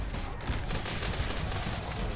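Gunfire in the zombie video game Dead Island Epidemic: a dense, continuous volley of rapid shots, steady and moderately loud for a couple of seconds, with no talk over it.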